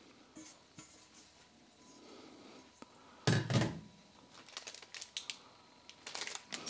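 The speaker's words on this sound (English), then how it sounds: "I'm gonna give this a little stir." A spoon clinks and scrapes inside a cup while stirring a dissolved military ration drink, close and faint, with a few sharper knocks and rattles of the container.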